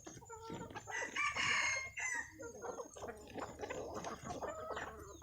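Pet bantam chickens kept as backyard fowl at a home, with clucking and a rooster's crow sounding close and clear amid overlapping calls throughout.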